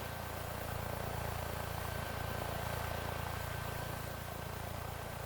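HCG Hurricane HC-450N NOTAR helicopter in Microsoft Flight Simulator, a steady, even whir of engine and rotor with a faint constant whine, unbroken and moderately quiet throughout.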